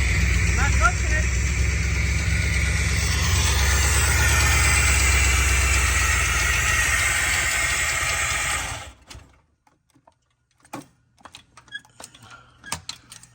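A 1975 Chevrolet Corvette engine runs steadily on its own fuel supply, a loud, even drone that cuts out abruptly partway through, leaving quiet clicks and faint handling noises afterward.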